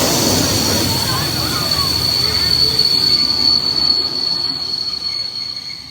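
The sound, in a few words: steam train wheels squealing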